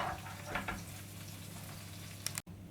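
80 grams of butter melting in a pan, a soft steady sizzle and gentle bubbling with faint crackles, close and continuous with no talking.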